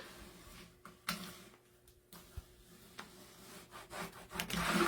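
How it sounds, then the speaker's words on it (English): A plastic scraper rubs and scratches in short irregular strokes, burnishing transfer tape over layered vinyl for a painted porch sign, close and fairly quiet with a louder sustained pass at the end. "put that transfer tape on nice and smooth. Burnish it really, really well."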